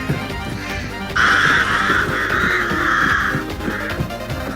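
Crows caw in the video game Hunt: Showdown 1896, a steady run of harsh calls close by that lasts a few seconds and then cuts off, with a softer call after it.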